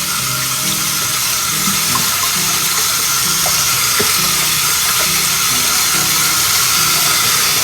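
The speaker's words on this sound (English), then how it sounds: "So hot water." Hot water runs steadily from a tap into a sink in a kitchen, rinsing sugar: a loud, continuous rushing hiss with a faint low hum beneath and no voices.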